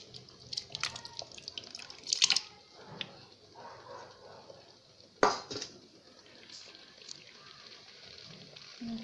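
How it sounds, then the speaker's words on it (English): Vegetable stock water poured into a pot of almost boiling porridge kanji, a soft wet splashing and dripping with two sharp metallic clanks of pot and utensil, close and moderately loud. "Now we can put the stock water with the vegetable which we have cooked earlier."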